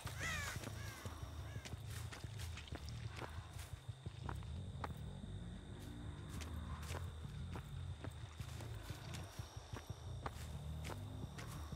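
Crows cawing in the Dead by Daylight survival horror game, a few distant caws early on mixed with repeated footsteps and scattered thuds over a quiet ambient background.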